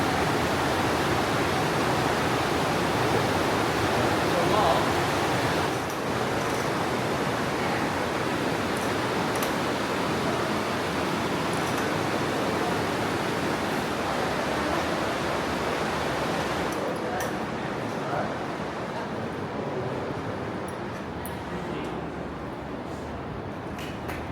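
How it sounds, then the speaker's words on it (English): Hidden waterfall deep inside the Waitomo glowworm caves in New Zealand, a constant broad rushing roar of falling water that echoes in the cavern and fades slightly toward the end. "here right now is Blackwater rafters jumping off a waterfall"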